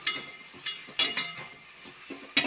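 Tomatoes, green chillies and curry leaves sauté in a pan for mutton kulambu, giving a soft sizzle broken by a few sharp stirring scrapes spaced across a couple of seconds, close and moderately quiet.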